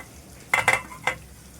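Finely chopped onion goes into hot oil seasoned with a pinch of asafoetida, making a few short, close bursts of sizzling and stirring over a quiet background.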